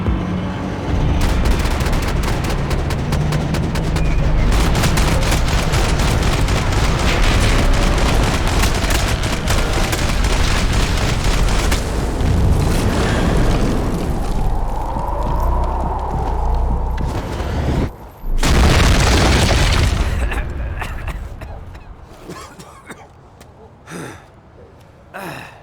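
Gunfire and explosions in the video game Max Payne 3: loud, dense bursts of shots and blasts roar almost continuously, break for a moment, flare up again, then thin into scattered cracks.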